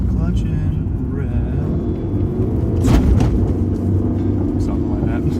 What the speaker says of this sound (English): clutch in, rev it up